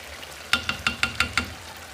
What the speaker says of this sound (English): I'm going to stir it very well. Let it mix.